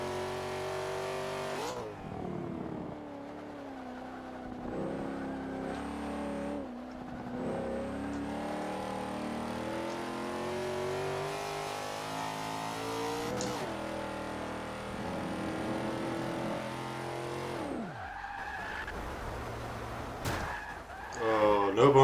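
A C-Class race car in a racing video game holds a steady, loud engine drone with gear-change shifts and revving throughout, rising sharply near the end, while a person talks over it.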